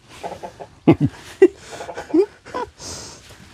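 Backyard chickens in a coop clucking and murmuring in short, scattered bursts, close by, with a few louder squawky calls among soft rustling.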